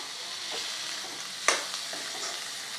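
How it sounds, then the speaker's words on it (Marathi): Finely chopped tomatoes fry and are stirred in a pan for a Maharashtrian drumstick vegetable dish, a steady close sizzle with a sharp utensil clank midway and light scraping strokes, no speech. "जे बारीक कट करून आपण टमाटर घेतलं होतं ते घालायचं आहे आणि टमाटर व्यवस्थित मिक्स करायचं आहे"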